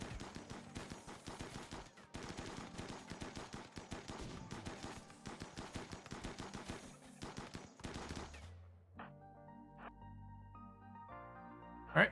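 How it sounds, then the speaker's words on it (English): Rapid bursts of gunfire in the video game RimWorld during a fight against attackers at their nests, dense volleys for about eight seconds before giving way to quieter game music and tones. "just get in there, start opening fire"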